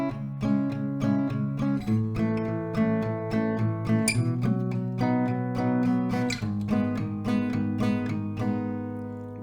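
Acoustic guitar chords of a song strummed in a steady down-stroke rhythm, moving through several chord changes, clear and close with no voices.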